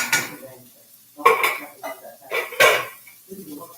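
Chili sauce is scraped out of a container with a utensil, giving several close scraping and clinking strokes with short pauses between them, fairly loud, no voices.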